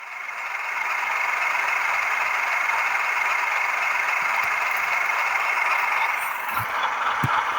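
A Hornby TTS sound-fitted model locomotive gives a steady, continuous engine drone with a strong mid-range hum, close and unchanging, with a couple of faint clicks near the end.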